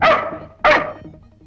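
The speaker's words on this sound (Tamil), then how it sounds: "ஏன் உன்னை பார்த்து நாய் குலைக்குது" A dog barks twice in quick succession, loud and close, with a short gap between the sharp barks.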